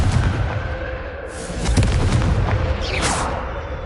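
A Confringo fire spell blasts in Hogwarts Legacy on PS4, a loud sustained booming burst with crackling, explosive texture and a whooshing sweep near the end, with no talk.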